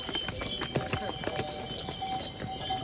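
Mules walk along a mountain pilgrimage path toward Hemkunt Sahib, their hooves giving an irregular clip-clop close by, with voices talking over the steps.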